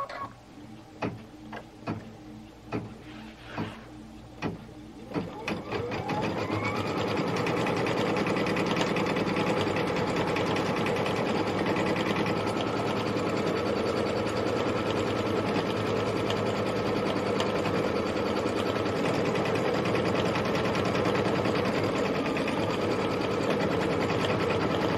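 An embroidery sewing machine stitches window mullions on a hooped design, first a few separate stitch bursts, then a steady, continuous mechanical whirr with rapid needle ticking, close and loud.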